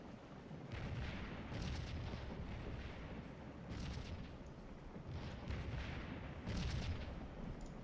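Cannons fire canister shot in the Gettysburg battle of Scourge of War: several distant, rumbling booms spaced a second or two apart over a continuous low battlefield roar, all fairly faint.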